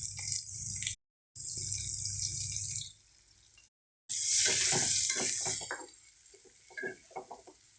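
Onion, chili and capsicum fry in white oil with a bright, loud sizzle that cuts off and resumes, then settles into softer crackling with a few clinks of a utensil against the pan.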